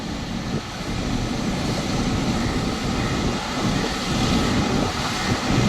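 A large jet takes off from Mumbai airport near Kurla, giving a loud, steady roar that fills the whole stretch without a break.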